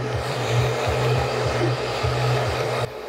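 A hair dryer blows steadily on long men's hair during a haircut, a loud continuous whoosh that wavers and dips rhythmically as it is moved, then drops off at the end with no talking.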